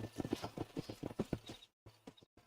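Horse hooves clip-clop in the Red Dead Redemption video game, a steady run of close, moderately loud hoofbeats that stops midway, leaving a quiet gap and then a brief sharp sound at the end.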